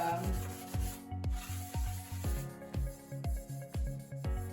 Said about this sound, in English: So I'm going to lightly sand these back to see if we can get rid of the